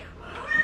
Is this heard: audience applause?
no